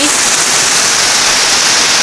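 Loud, steady rain pours down as the first rain of the year, a dense, close hiss that runs unbroken from start to finish.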